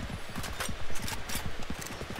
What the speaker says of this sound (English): Footstep.